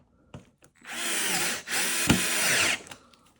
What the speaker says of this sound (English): We're gonna put some screws within it.